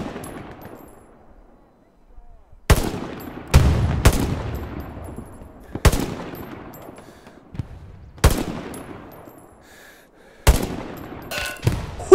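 Rifle gunshots in the World War II shooter game Hell Let Loose crack out as sharp, loud single reports with decaying echo tails, roughly seven spaced shots with a quick pair near the end, some near and some more distant.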